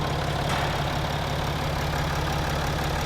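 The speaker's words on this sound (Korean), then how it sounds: "엔진 소리 일정하네요" The 3.0-litre V6 diesel engine of a Mercedes-Benz ML350 BlueTEC 4MATIC (W166) SUV idles steadily, a constant low rumble with a slight knocking texture, close by and unchanging throughout.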